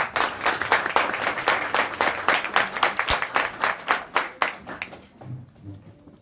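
An audience at a poetry evening applauds to welcome poet Muzaffer Arslan, with steady close hand clapping that continues for several seconds and then thins out and fades at the end.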